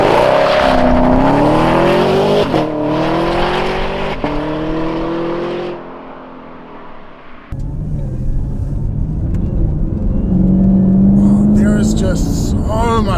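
A supercharged 2019 Chevrolet Camaro ZL1 engine accelerates hard on an open road, its loud rising roar climbing through several pulls before briefly dropping away, then returning as a steady heavy drone.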